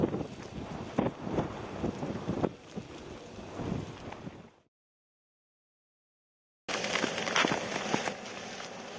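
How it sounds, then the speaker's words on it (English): High wind buffets a tent camp in the mountains of Denali, roaring and gusting hard against the microphone, then cutting out for about two seconds before returning just as strong. "the high winds have come back in once we got set up"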